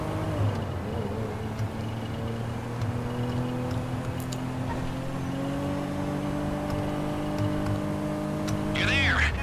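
A slow car drives along in GTA 5 Online, its engine holding a steady droning hum with gradual pitch shifts over the long cruise, close and continuous, with a brief high whine near the end.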